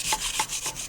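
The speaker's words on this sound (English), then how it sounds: "I'm just going to scrape down the bowl" A spatula scrapes around the sides of a mixing bowl of meringue being whipped with sugar, a few quick rubbing strokes close by, repeated in a steady rhythm.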